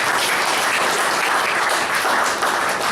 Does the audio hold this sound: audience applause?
yes